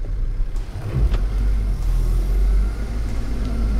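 A front-wheel-drive Geely Atlas on studless tyres sits stuck with the throttle floored, its engine holding a loud, steady low drone with a slight waver throughout, and no voices heard.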